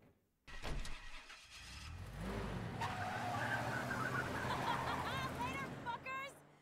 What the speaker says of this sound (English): El coche, como no suena esa tarra.